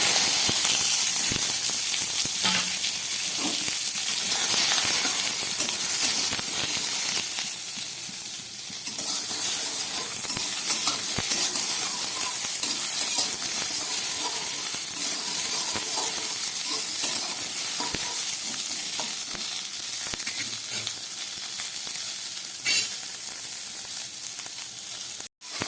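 Chopped vegetables fry in a little oil in a hot wok, giving a loud, steady sizzle and hiss that carries on unbroken with no talking.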